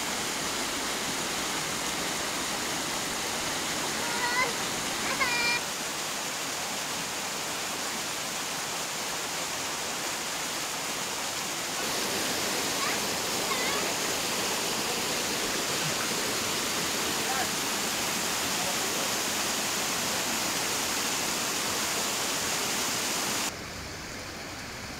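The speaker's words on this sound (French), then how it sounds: "Prochain arrêt, une petite cascade à 2500 mètres d'altitude" Small mountain waterfall high in Armenia at 2500 m, a constant broad rush of falling water close by, with a few brief faint voices part way through.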